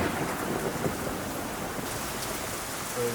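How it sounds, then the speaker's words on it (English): Heavy outdoor rain pours steadily while thunder rumbles low underneath, a continuous dense roar with no voices. "rain, heavy rain."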